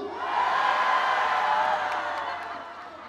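A large festival crowd at a singer's outdoor concert at the Masan fish market festival roars and cheers, a dense sustained wall of voices that swells early and slowly fades.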